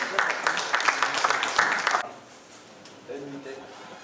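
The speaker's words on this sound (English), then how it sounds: "Please, a round of applause for him." A burst of crowd applause at a town planners' day event, dense clapping for about two seconds, then it stops and a voice starts speaking over a quiet room.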